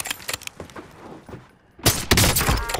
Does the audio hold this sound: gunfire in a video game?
yes